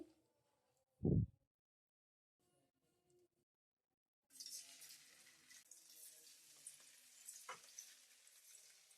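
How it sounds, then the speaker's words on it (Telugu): Green chilies and cauliflower pakoda drop into hot oil and start frying, a quiet stretch with a brief thump first, then a steady close crackling sizzle with a sharp spit partway through. "ఇప్పుడు దీనిని హీట్ అయి ఉన్న ఆయిల్లోకి వేసి బాగా ఫ్రై చేసుకుందామండి."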